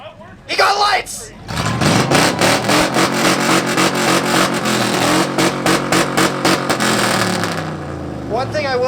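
A modified muscle car exhaust revved at an outdoor exhaust competition, loud and close: a brief blip, then a long, sustained, crackling roar that holds steady before easing off, with a crowd and voices underneath.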